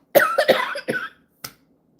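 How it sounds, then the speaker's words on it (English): A 61-year-old person coughs a short asthma cough indoors, a close burst of three or four harsh hacks in quick succession, then a single softer cough after a pause. "That's an asthma cough."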